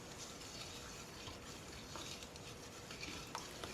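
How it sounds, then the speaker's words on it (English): A spoon stirs sugar into warm liquid oils for a homemade body polish, a soft close gritty scraping with faint clinks against the container. "I'm going to put in about 1/3 of that sugar and I'm going to stir it."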